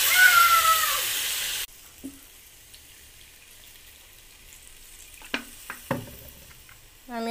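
Water is poured into a sautéed curry, setting off a loud hissing sizzle that cuts off abruptly after a second or two. A near-quiet stretch follows, broken by a few short clinks and clatters.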